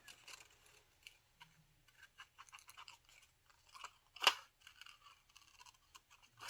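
Scissors cutting a paper figure out of a magazine page: quiet close snips and rustling paper in an irregular run, with one sharper louder snip near the end.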